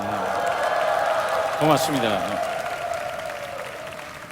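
A crowd at a Korean-language Daniel Prayer Meeting in Atlanta claps continuously, a steady, fairly loud wash of applause. A speaker briefly says a word of thanks over it.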